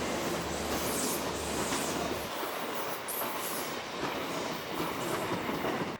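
A passenger train runs down the coast toward Tarragona, its loud steady rumble and wheel noise filling the whole stretch, with the low engine drone easing off partway through while the rushing rail roar carries on.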